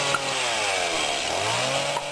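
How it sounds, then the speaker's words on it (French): Loud, close chainsaw whine revving steadily, used to open a beer bottle, with a continuous buzzing engine drone for the whole short stretch and no talk. "c'est pas grave, une tronçonneuse ça suffit."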